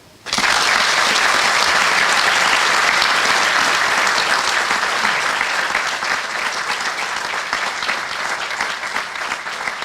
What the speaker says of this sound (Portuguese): Para quem lhe pedi uma grande salva de palmas